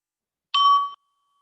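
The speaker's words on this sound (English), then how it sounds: "I'll ring the bell to start us off, and just allow the bell tone to bring you into this present moment." A meditation bell is struck once: a bright, clear ding with a sustained ringing tone that cuts off after about half a second, alone in silence.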